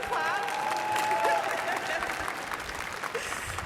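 Audience applause in a large general assembly session hall, a steady wash of clapping throughout with a voice speaking over it near the start.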